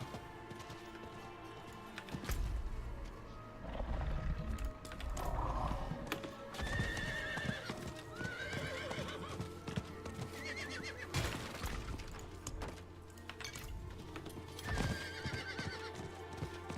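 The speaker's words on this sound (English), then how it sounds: "On my horse, coming to catch you up." Horse in the Diablo 4 video game, clattering hoofbeats in an irregular galloping rhythm with several loud neighs and whinnies, alongside game effects and a soft musical drone.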